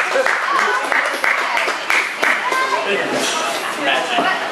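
An audience at a magic show claps for a performer, a full burst of applause with sharp individual claps standing out, while a voice talks over it.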